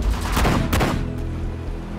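Video game gunfire in Sudden Strike 4's Pacific War campaign: two loud, dense bursts of rapid volley fire close together, followed by a rumbling, fading tail with no voices.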